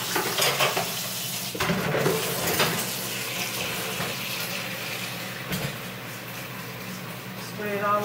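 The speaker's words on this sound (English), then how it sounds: "Spray it all over my stove." Lysol all-purpose lemon cleaner hisses from a spray bottle across a kitchen stove in several bursts over a steady background hiss, with a voice talking throughout.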